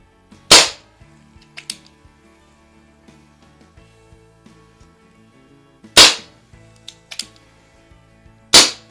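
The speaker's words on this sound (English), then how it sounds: "have 2 BBs left. Let's finish up on the shoot" A 1958 Hahn 45 CO2-powered BB revolver made by Crosman fires its last BBs: three sharp, loud, well-spaced pops with faint clicks and handling noises between them, no talking.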